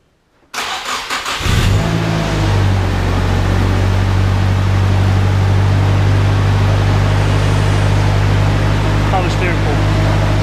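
A freshly rebuilt Nissan S15 engine cranks and catches, then settles into a loud steady idle with a droning power steering pump whine running underneath throughout.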